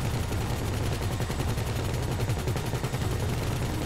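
Sustained rapid gunfire in GTA Online aimed at helicopters, dense continuous bursts over a low rumbling engine drone, loud throughout with no talking.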